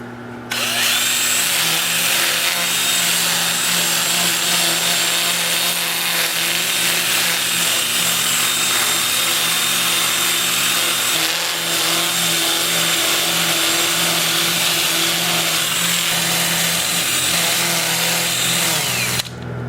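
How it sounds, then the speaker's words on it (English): A 2-inch disc sander with 80-grit paper works over turned wooden parts, giving a steady loud high-pitched whine that runs almost unbroken for the whole stretch. "I'll switch to my 2-inch disc sander at 80 grit. And I'll sand all of the turned parts."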